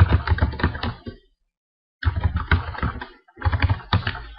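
Quick bursts of keystrokes on a computer keyboard, close and crisp, in three runs separated by a short silent pause, with no voices.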